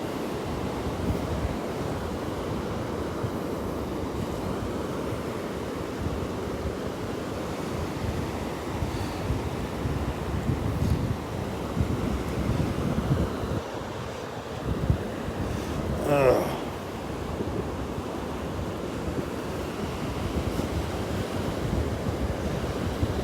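Ocean surf rolls steadily onto the beach at Delnor-Wiggins, just south of the point at Wiggins Pass, a continuous broad wash of breaking waves with gusting wind noise over the microphone and no talking.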